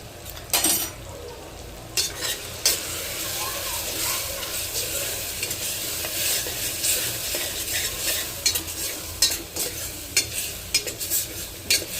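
Dry spices such as coriander-cumin powder, black pepper and salt roast in a pan, stirred steadily with a spoon under a continuous soft sizzle, with frequent scraping clinks against the metal.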